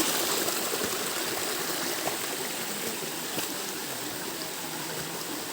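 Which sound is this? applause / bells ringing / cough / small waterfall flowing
small waterfall flowing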